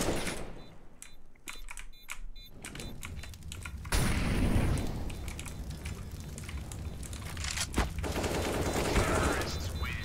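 Gunfire aimed at the player in CS:GO, with sharp rapid bursts of shots early, then a loud blast and more scattered shots, with someone talking intermittently.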